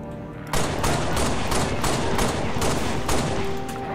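Rapid gunfire from the Halo Reach video game, a steady run of repeated shots with heavy thumps, loud and close, continuing for several seconds with no talk over it.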